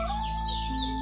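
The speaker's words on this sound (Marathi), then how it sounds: "या ठिकाणी पक्ष्यांचा असा खूप सुंदर असा आवाज येतोय" Birds calling in dense forest at Koyna wildlife sanctuary, with brief whistled notes over a heavy, constant low rumble of wind or handling noise.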